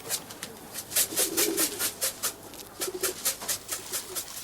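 Racing pigeons cooing at feeding time, a flock giving repeated soft coos in an uneven rhythm, close and fairly steady, with no talk over them.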